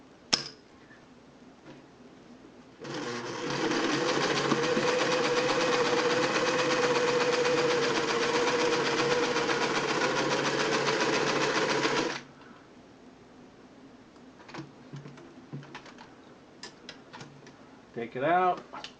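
A Singer 600E sewing machine stitches through four layers of thick upholstery leather, a steady loud mechanical whir running for about nine seconds between quieter handling noises, with a brief squeak near the end.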